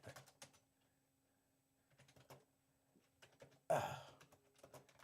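Someone types on a computer keyboard in a quiet room: sparse, irregular bursts of light key clicks, close by, with one louder clatter near the end.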